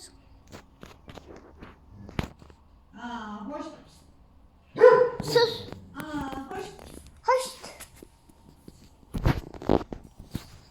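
A dog barks several times in short bursts amid rustling and footsteps, with a person speaking briefly in between.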